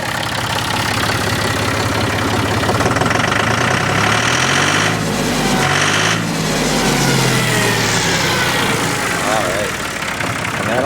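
A John Deere tractor engine idles nearby, a loud continuous rumble with rhythmic knocking and some shifting mechanical tones.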